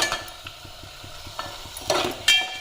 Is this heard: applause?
no